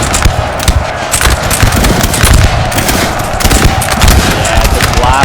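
Dense musket volleys crackle nonstop across a Napoleon Total War multiplayer battlefield, a loud, busy stream of overlapping shots with game noise around them.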